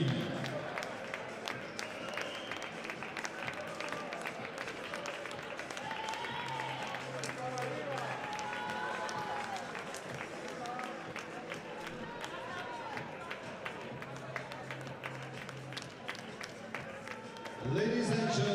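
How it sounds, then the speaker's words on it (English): A crowd in an arena in Klaipeda applauds at a FIBA U20 Women's EuroBasket basketball medal ceremony honouring Spain's bronze. The clapping is steady, distant and fairly faint, with a voice speaking over it and a louder burst near the end. "please give a round of applause for Spain!"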